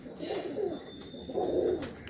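A pigeon gives two low, throaty coos close by, separated by a short pause, with no talking.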